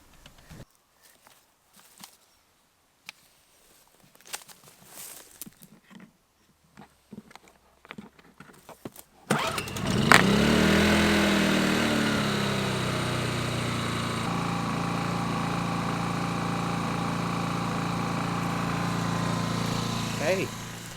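A small water pump engine on a rural plot starts after a stretch of faint footsteps and handling noises, then runs loud and steady at a constant drone close by for the rest of the clip.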